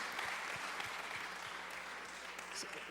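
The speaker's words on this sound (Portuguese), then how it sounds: "Essa turma merece mais uma salva de palmas, né?" A congregation at a church service claps steadily for a group, a dense, even patter of applause that stays at one level without a break and without talk.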